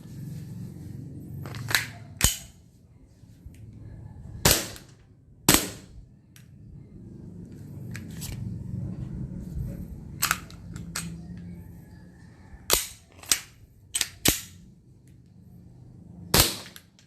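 A WE G34 Gen 4 gas blowback airsoft pistol fires a series of sharp, loud cracks, some single and some in quick pairs, spaced irregularly over a low background hum.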